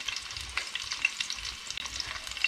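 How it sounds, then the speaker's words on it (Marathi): Garlic and onion frying in a pan for a Malvani fish recipe give a steady, close hissing sizzle with light crackles and faint stirring, no talking. "लसूण कांदा भाजला व्यवस्थित"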